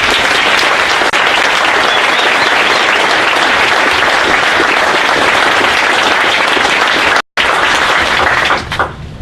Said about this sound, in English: a round of applause for all the moms and dads in the audience